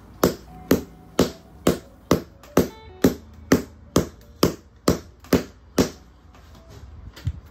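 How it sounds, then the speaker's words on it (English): Steady, evenly spaced taps of a wooden hammer on shoe edges during a heel repair, about two per second, sharp knocks with silence between them. "then hammer it down to test out the connection"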